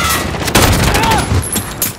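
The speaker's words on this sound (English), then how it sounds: "I killed him with a grenade." A grenade blast and a rattle of rapid gunfire in Call of Duty: Modern Warfare multiplayer, with loud, dense bursts of shots layered over a booming low rumble, and in-game noises mixed into the barrage.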